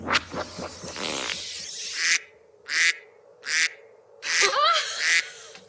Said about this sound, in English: A duck in a tiny hat.